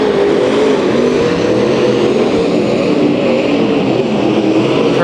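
Race cars roar through heat races at Santa Maria Speedway in one loud, continuous, dense engine drone with no breaks.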